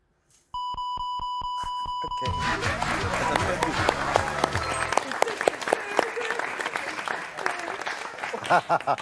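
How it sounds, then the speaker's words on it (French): A studio audience on the French game show Motus bursts into sustained applause, loud and dense, following a run of electronic beeps and a short jingle, with the clapping continuing to the end. "Viens Tristan, on les applaudit."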